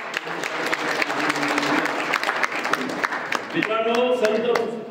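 An audience applauds at a Marathi poetry festival, with sustained crowd clapping that continues steadily under a man's amplified speech and then tapers off near the end.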